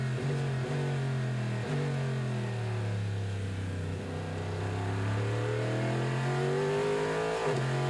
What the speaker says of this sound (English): See the 98 just in front, trying to get past GT Daytona traffic.